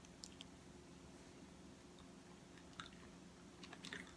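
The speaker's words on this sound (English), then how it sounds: "I'm chewing it with my front tooth because if I get it in my molars, it's gonna stick there" Faint, close chewing of a Bean Boozled jelly bean with the front teeth: soft, irregular wet clicks and squishes over a quiet background, ending in a sharper snap.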